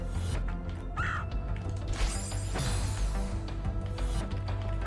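A crow caws in the video game Celeste, a short harsh call rising briefly over busy game music and mechanical clicks.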